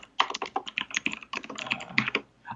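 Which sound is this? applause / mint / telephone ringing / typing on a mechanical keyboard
typing on a mechanical keyboard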